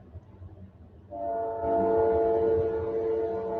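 Horn of a passing train sounding outdoors, a steady multi-tone blast that starts after a second of low background rumble and holds loudly to the end, with no voices.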